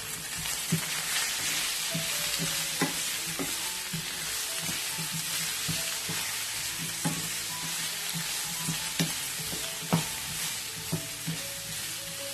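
Crushed red chili, nigella seeds and salt stirred in a hot oily pan, a steady sizzle with repeated scraping taps of the spoon, close and continuous with no voices.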